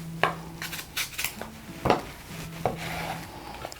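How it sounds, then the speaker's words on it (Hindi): A knife cutting an apple into small pieces on a board, a few sharp, separate cuts and taps, close and fairly quiet with brief pauses between strokes. "सेब को काटूंगी।"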